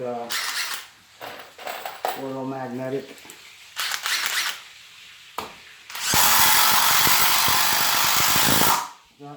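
A Dewalt Xtreme cordless drill drives a screw in one loud, steady burst of whirring motor and bit noise lasting nearly three seconds, preceded by scattered clicks, handling sounds and a short stretch of someone talking.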